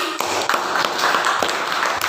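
Classroom students clapping, a short dense round of applause with a few sharper taps standing out, close and fairly loud.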